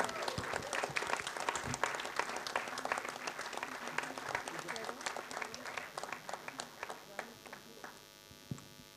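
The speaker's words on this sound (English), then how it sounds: "can we have a round of applause for all of them?" Audience applause at a film trailer launch event, a broad wash of many hands clapping steadily for several seconds in a large room, with a low hum underneath and the clapping thinning toward the end.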